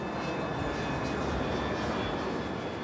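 A jet airliner's turbine engine roaring in a steady, loud, continuous drone with a high whine running through it, heard alone without talk.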